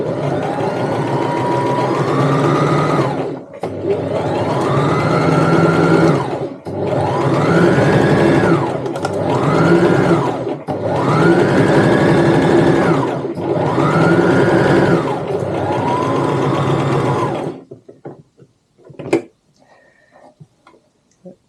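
Sewing machine stitching a tote bag in several sustained whirring runs separated by short stops, loud and close, ending with quiet handling clicks as the fabric is repositioned.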